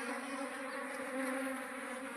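A swarm of honeybees buzzing steadily, a dense continuous hum of many wings close by during a swarm capture, without any voices.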